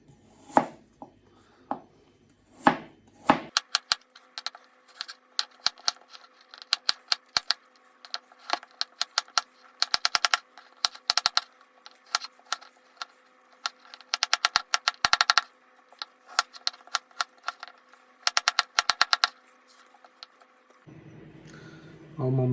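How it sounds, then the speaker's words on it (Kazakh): Rapid, crisp knife taps on a cutting board as apples are finely chopped, in quick bursts with short pauses, close up; a few separate thuds precede it and faint talk appears at the end. "Енді осы алмаларды ұсақтап тураймыз."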